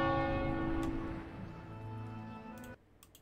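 A single bell dinging the hour in the World of Warcraft video game, a sustained resonant chime with long ringing overtones that fades and cuts off near the end.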